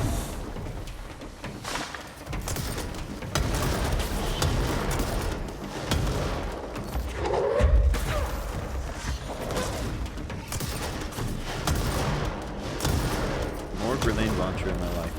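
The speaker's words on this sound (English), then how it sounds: "More grenade launcher in my life, please." Grenade launcher blasts and steady combat din in the shooter game Control, dense loud booms and crackling gunfire layered over a constant noisy backdrop, with a voice speaking under the action.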